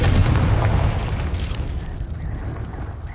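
Confringo spell explosion in the video game Hogwarts Legacy, a loud booming blast at the start that rumbles and decays over a few seconds into a fading hiss.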